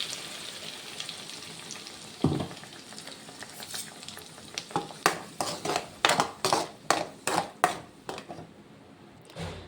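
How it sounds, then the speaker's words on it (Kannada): Ground gravy for paneer butter masala hits hot butter in a pan with a steady sizzle, then a run of rhythmic scraping stir strokes roughly every half second, close and fairly loud. "ಈಗ ನಾವೇನು ರುಬ್ಕೊಂಡಿದ್ದೇವಲ್ಲ ಗ್ರೇವಿನ ಇದಕ್ಕೆ ಸೇರಿಸೋಣ."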